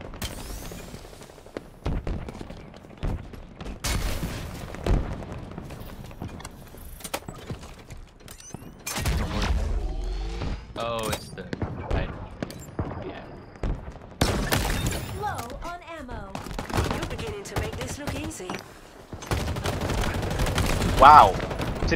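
Gunfire in Halo Infinite crackles in dense, irregular bursts with sharp shots, mechanical clatter and scattered impacts. The firing is close and loud at times, with intermittent voices in the mix.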